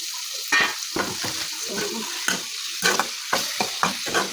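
Mustard seeds and spices for a tempering sizzle and crackle in hot oil for prawn sukka, while a utensil stirs and scrapes the pan in irregular strokes, nearby and fairly quiet.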